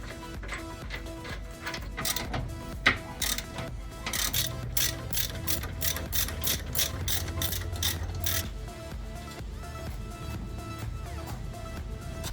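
A hand ratchet clicks rapidly in bursts while tightening the factory hardware on a Jeep LJ sway bar end link, close and crisp with a faint hum underneath, followed by a steady run of clicks.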